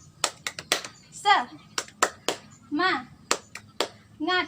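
Children join a classroom 'tepuk semangat' spirit clap, sharp hand claps in quick bursts of three or four separated by chanted children's voices, fairly close and moderately loud.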